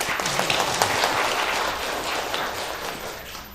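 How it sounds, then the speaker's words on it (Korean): A church congregation claps during a Sunday worship service to welcome a returning member: dense, steady applause from many hands that holds for several seconds and eases slightly toward the end. "우리 한번 박수로 환영하겠습니다."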